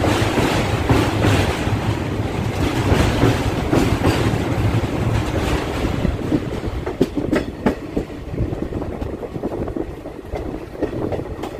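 Passenger train running on rails between New Bongaigaon and Guwahati: a continuous loud rumble from inside the coach with rhythmic clickety-clack of wheels over rail joints and occasional sharper clanks, no talking.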